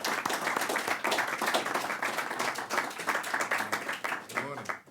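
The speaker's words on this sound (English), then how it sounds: "let us all give him a warm round of applause and welcome him to our conversation" A warm round of applause from a lunch audience welcoming a congressman, brisk clapping close by that rises and falls, with voices mixed in.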